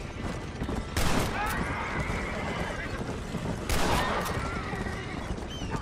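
Horses in Red Dead Redemption give two loud, shrill whinnies a few seconds apart, set against a busy backdrop of gunfire and rushing noise.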